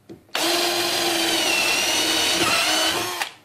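A Kimo 20V cordless drill at its second speed spins up sharply and runs at a steady high whine for about three seconds, then cuts off; loud and near.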